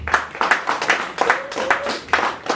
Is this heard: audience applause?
yes